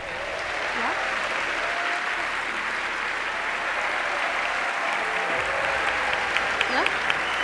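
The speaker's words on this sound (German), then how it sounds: "Applaus für Mathilde Himmelreich." Audience applause at a poetry slam, a sustained, dense wall of clapping from a full room that stays steady throughout, with a few brief voices and whistles poking through.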